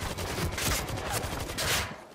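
Machine gun fire in the World War Z video game, a dense rattling fusillade of rapid shots that runs continuously and loud for the whole moment.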